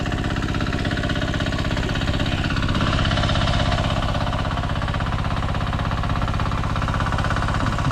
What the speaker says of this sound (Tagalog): patayin na natin yung makina